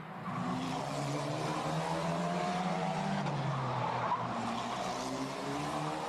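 Formula Regional European Championship race car sliding through the casino section at Monaco during qualifying; a loud, continuous engine howl with wavering pitch holds steady throughout, close and unbroken.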